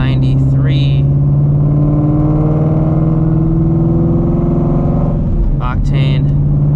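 Supercharged Ford GT350 running on race fuel while cruising, a steady mid-pitched engine hum with strong low harmonics holding constant throughout, close and loud, with someone talking over it.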